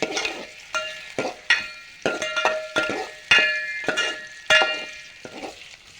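Onions stirred in hot oil for a village-style mutton curry, with a steady, fairly loud rhythm of spatula scrapes and ringing clinks against the pan over a low sizzle, and no talking.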